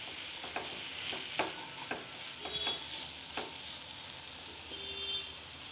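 Finely chopped small potatoes fry in a pan with a quiet steady sizzle while a spatula scrapes and knocks against the metal several times.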